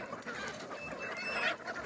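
Chickens cluck and call in a poultry farm, a steady cluster of overlapping fowl sounds at moderate distance with no talking.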